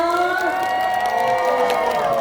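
A crowd at a Thai outdoor meet-and-greet in Pathum Thani claps and cheers, a continuous, fairly loud wash of applause over sustained music or singing tones.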